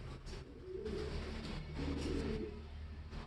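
Soft, low cooing of imported pigeons, thin and stressed, repeats in gentle rolling phrases over a quiet background, fairly close and unhurried.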